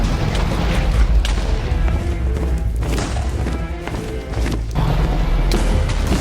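Laser attacks and explosions hit the dragon in Minecraft, giving a loud, continuous barrage of booming blasts and thuds. The dense noise swells and dips a few times with no break.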